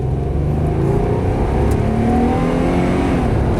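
A Nissan Maxima with an overheating engine and a sticky thermostat is revved hard, its engine rising into a loud, sustained high rev close by, with no talking.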